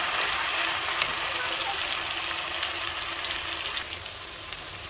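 Chopped onions frying in a pan for Bengali mutton jhol, a steady, dense hiss of sizzling oil that stays even and close throughout, with only faint occasional clicks of stirring and no voices.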